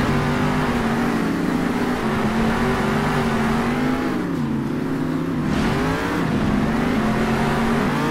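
Monster truck engines roar in Monster Jam Steel Titans, loud sustained revving with pitch dipping and climbing as the trucks race and jump, no talking.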